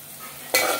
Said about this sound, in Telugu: ఉల్లిపాయలు మగ్గుతున్నాయండి, ఉల్లిపాయలు మగ్గనిద్దాము